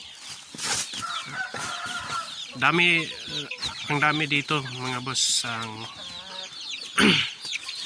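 Shamo Aseel and other chickens at a farm in Ipil, Zamboanga Sibugay cluck and call repeatedly at close range, with someone talking among them.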